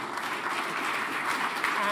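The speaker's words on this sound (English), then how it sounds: "So let's give them a round of applause" Audience at a panel event on mine clearance, conservation and development in Angola applauding the panelists, a steady, even round of clapping from a seated crowd.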